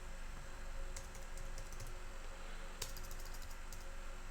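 A username is typed on a computer keyboard during a Kali Linux virtual machine setup. Quiet, irregular bursts of keystroke clicks tap over low room hum, with no voices.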